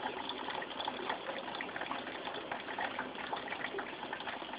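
Rainwater from a rain collector spills into a bucket beside a full 50-litre drum, a steady close splashing gush with no pauses, heard alone without voices.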